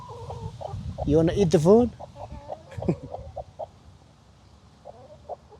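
A broody hen gives low, drawn-out clucks and a louder squawking outburst, close by, while a person talks quietly to her.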